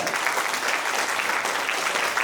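An audience at a music school's year-end concert in Poltava gives an ovation for a bandura trio: dense, steady applause fills the whole stretch at full volume.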